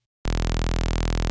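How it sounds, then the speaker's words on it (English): After a brief silence, a bright, buzzy synthesizer saw wave starts abruptly and holds a steady, loud, harmonically rich tone with no other sound. "Normal saw wave,"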